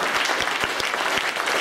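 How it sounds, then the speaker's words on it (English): Audience applause for a 14-year-old classical guitar performer at a talent show, a dense, loud burst of clapping from a crowd that fills the short stretch without talk. "We'll give you a big round of applause for Ansar, ladies and gentlemen."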